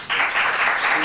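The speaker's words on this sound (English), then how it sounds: "let's limit the applause" Audience applause fills a city council meeting chamber, a dense steady wash of many hands clapping that starts abruptly and holds at a constant level.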